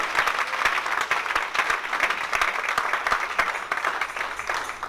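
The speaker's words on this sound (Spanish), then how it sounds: "Y dale un aplauso a Cristo" A church congregation breaks into sustained applause during a sermon, dense clapping from many hands filling the room at close range, steady and lively throughout.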